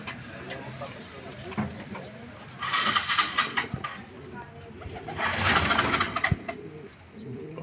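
Racing pigeons coo in short bursts over a busy outdoor background during a race return, with a couple of louder flurries of wing flapping or bird activity.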